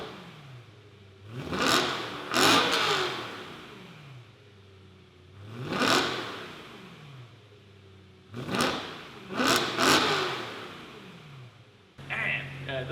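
A BMW M3 with a resonator-deleted exhaust revs repeatedly, each throttle blip a sharp rising roar that falls back to a low idle burble, about five revs spaced across the clip, up close.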